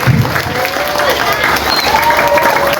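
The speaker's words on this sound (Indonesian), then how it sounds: "Berikan tepuk tangan untuk para panitia di Pondok Pesantren Darul Qur'an" Applause from the audience at a night haul commemoration and santri thanksgiving gathering at Pondok Pesantren Darul Qur'an, a steady broadband clatter of clapping throughout with crowd noise underneath and some voices mixed in.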